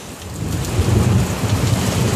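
Heavy rain falls steadily through a thunderstorm in the USA. Thunder rumbles low beneath the dense hiss of the downpour, loud and close throughout, and no one speaks.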